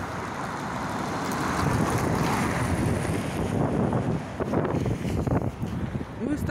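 Steady rushing wind buffets the microphone throughout, with low rumbling gusts and a broad roar that swells and dips without a break.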